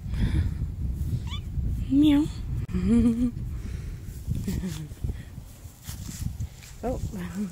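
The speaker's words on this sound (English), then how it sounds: "It's a little kitten." A little kitten meowing outdoors, several thin, high meows spread out in short bursts, heard close by amid rustling and a person's soft voice talking.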